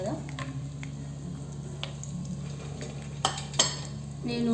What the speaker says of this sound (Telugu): ఇప్పుడు ముందు పల్లీలు ఫ్రై చేసుకుందాం